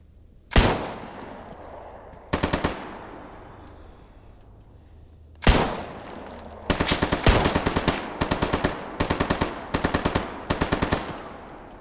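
AK rifle fire from a zombie in STALKER GAMMA: a few sharp single shots ring out with echoing tails, then a rapid string of loud automatic bursts crackles close by.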